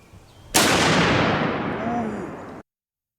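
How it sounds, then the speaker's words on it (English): A single .50 BMG SLAP tracer round fires with a sudden loud blast, followed by a long rolling boom that slowly fades over about two seconds outdoors. "This is a 50 BMG slap tracer round."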